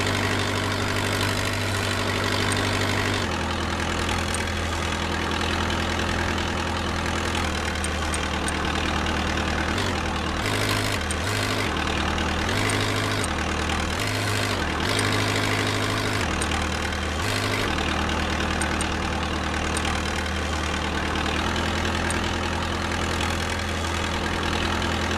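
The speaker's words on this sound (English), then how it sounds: "drive the forklift backward into the center of the aisle where you initially parked" A forklift engine idles in a virtual reality training simulation, a steady, loud, low rumble that dips and surges in level several times along the way.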